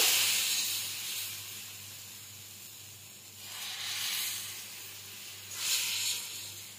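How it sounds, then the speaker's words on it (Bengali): A chila frying in oil in a pan, a faint soft hiss that swells in a few gentle waves as oil spreads and spatters, heard alone without speech. "আর একটা ছিলকাও ভেজে নেব"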